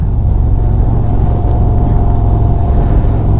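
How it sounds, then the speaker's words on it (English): Indian Springfield Dark Horse motorcycle, a 2025 model with a ThunderStroke 116 V-twin engine, rumbles at a steady idle or cruise, a loud, continuous low-pitched throb close by with no voices over it. "We got the ThunderStroke 116 V twin engine"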